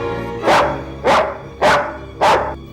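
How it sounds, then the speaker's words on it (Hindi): A dog barks four times in a steady, evenly spaced rhythm, loud and close, each bark a full, harsh burst over a low constant background hum. "ये कुत्ता भौंक क्यों रहा है?"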